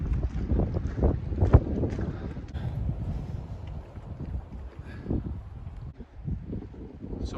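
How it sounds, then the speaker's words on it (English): Strong wind buffets a waterlogged wild campsite in loud, gusting, low rumbling bursts that go on without a break throughout. "It's way too windy down at the bottom."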